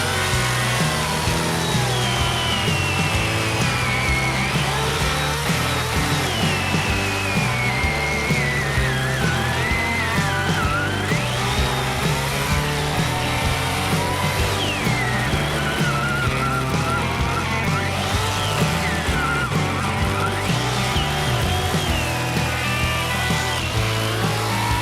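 A Stihl MS 250 gas chainsaw cuts through a log, its engine screaming and wavering in pitch as the chain bites and frees, loud and close without a break.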